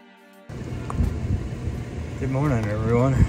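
Steady, rushing wind blowing across a Kentucky campsite on a frosty morning, a broad roaring rumble that gusts louder toward the end while someone talks over it.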